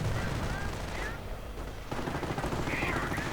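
Machine gun fire in a World War II real-time strategy game, with a Sherman tank under MG fire; rapid distant bursts of gunfire and crackling battle noise, fairly faint and continuous.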